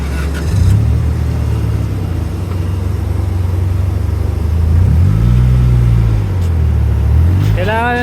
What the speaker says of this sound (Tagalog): Palalamigin ko lang yung makina.